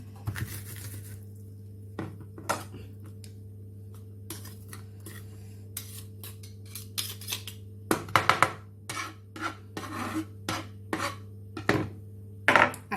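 Fresh ingredients crushed on a board with the back of a knife for dhal curry give irregular sharp knocks and thuds, some in quick clusters, over a steady low hum.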